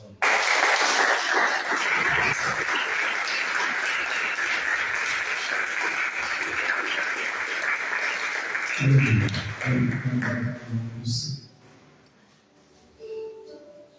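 Church congregation applauding during a worship service, a long, loud wave of many people clapping that holds steady for about eleven seconds, then fades as a voice speaks briefly and the room falls quiet.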